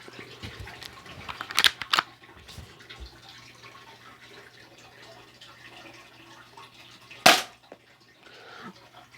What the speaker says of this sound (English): 32-inch flat screen TV versus Dollar Store BB gun